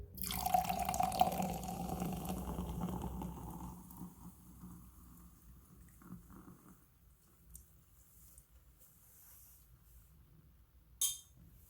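Grape-flavored Waterloo sparkling water pours steadily into a glass with a bright fizzing splash, fading into soft trickles and drips, ending with a brief clink.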